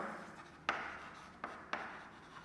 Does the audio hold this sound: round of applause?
no